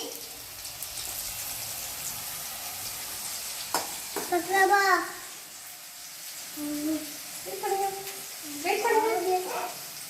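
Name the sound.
onions frying in a pan for Tamil kenaf leaves kadayal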